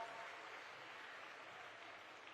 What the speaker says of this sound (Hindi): जोरदार तालियां बजती रहें सर